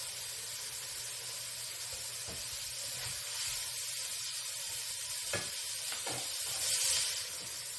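Hamburger steaks sizzle in a skillet with a steady, bright frying hiss, broken by a few soft scrapes and clinks as the meat is lifted out.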